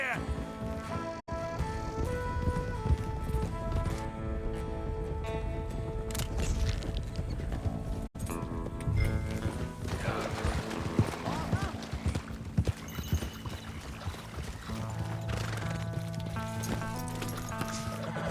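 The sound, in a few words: horse galloping in video game Red Dead Redemption 2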